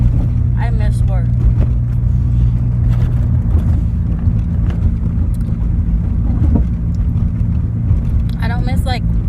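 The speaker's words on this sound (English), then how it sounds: "Why did I pick the most bumpiest fucking road?" A car rolling over a rough, bumpy road, with a steady low rumble of road and engine noise throughout and occasional thumps, while someone talks over it at the start and end.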